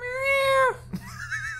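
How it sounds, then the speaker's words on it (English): Cat meowing during play of the video game Legend of Dragoon: a long, loud, clear meow that bends downward and fades, then a short chirpy call after a brief bump, over a low background hum. "That's a lot of meowing."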